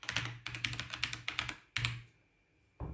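Typing a name on a computer keyboard in close, crisp clicks, about a dozen keystrokes in a rapid run, a brief pause, then one final key press.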